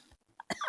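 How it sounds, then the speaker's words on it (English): A single short, harsh cough with a breathy, wheezy tail, close to the microphone, following a brief faint throaty sound. "And then I wheezed."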